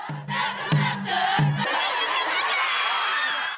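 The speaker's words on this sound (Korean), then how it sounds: "좁은 정문을 두고 두 학교 간의 응원 배틀." Rival students from two schools cheer against each other at a narrow school gate on exam day, a loud crowd of voices with rhythmic chant bursts near the start, then a continuous roar of shouting.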